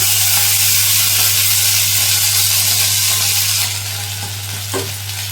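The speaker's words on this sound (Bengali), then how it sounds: "মশলাটা কষানো হয়ে গেছে এর মধ্যে এবার দিয়ে দেবো সর্ষের পেস্টটা" Mustard paste goes into a pan of fried spices for a fish curry, giving a loud, steady close-up sizzle with some stirring scrapes that eases slightly toward the end.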